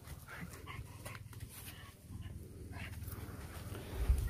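Dog panting in quick rhythmic breaths with occasional soft whimpers, close by and fairly quiet, alone without speech.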